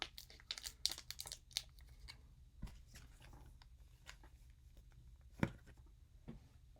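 Someone tears open a Pokémon TCG card pack wrapper, and it gives quiet, close crinkling and tearing rustles, busiest at the start before fading into sparse soft crackles.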